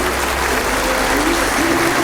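A round of applause at a first Holy Communion celebration, a steady, dense clapping from guests that holds at an even level, with a faint sustained tone running underneath.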